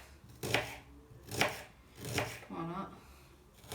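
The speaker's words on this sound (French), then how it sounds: "On va les recouper en fines lamelles." A knife cuts small shallots into thin strips on a cutting board, making four distinct close chopping thuds at an even, unhurried rhythm.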